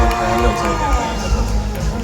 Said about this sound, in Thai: ช่วงนี้ขอเสียงปรบมือให้กับคุณซีด้วย